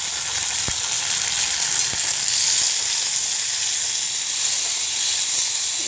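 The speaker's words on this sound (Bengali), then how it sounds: "এবার টমেটো কুচিগুলো দিয়ে দিলাম।" Chopped tomatoes hit a pan of browned fried onions and sizzle steadily, a loud continuous hissing fry with a few faint stirring taps, no voices.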